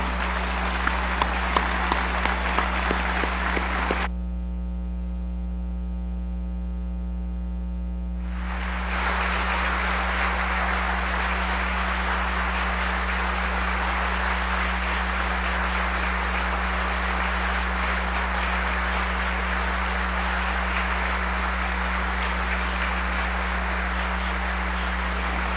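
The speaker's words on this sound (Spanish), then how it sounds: "esos soldados merecen un aplauso que retumbe en toda nuestra América" Applause for soldiers in the National Constituent Assembly chamber. A few scattered claps open, then a brief lull with only hum, then a long, sustained wash of applause from a large crowd, steady and even under a constant low electrical hum.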